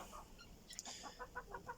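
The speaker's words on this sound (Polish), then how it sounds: "A więc jest to kura gołoszyjka" A medium-sized naked neck hen gives a short run of soft, quiet clucks, a few brief notes in quick rhythm heard close by with no talking.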